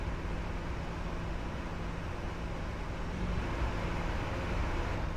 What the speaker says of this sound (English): Those reversers sound crazy, dude.